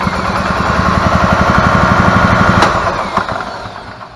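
An EZGO TXT golf cart engine turns over and runs on a newly installed starter generator, a loud, close, steady mid-pitched pulsing hum that eases off toward the end.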